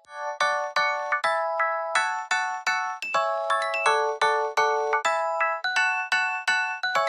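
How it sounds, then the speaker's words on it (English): A bright bell instrument from the Arcade plugin plays a melody in a color bass house track, with clear struck notes in a quick, bouncing rhythm, each ringing briefly before the next. "select one of Arcade's many instruments. This is the one I ended up using. It's a bell."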